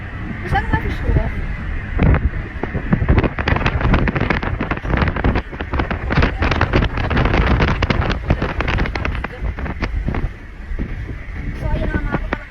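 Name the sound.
wind blowing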